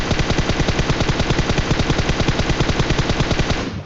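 In the mobile shooter BGMI, a long burst of automatic gunfire rattles in rapid, evenly spaced shots, loud and close, continuing without pause for several seconds.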